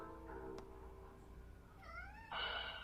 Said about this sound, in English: he slowly looked up and meowed